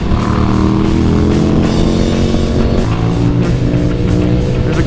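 A loud, close engine roars steadily, its pitch rising and falling as it revs, dense and harsh throughout with no voices.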